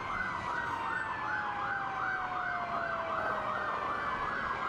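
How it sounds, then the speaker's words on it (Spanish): Emergency sirens wail steadily in a horror video game, a rising-and-falling electronic warble layered over a slowly descending tone, continuous and fairly distant with no talking. "Ok, escuchamos sirenas"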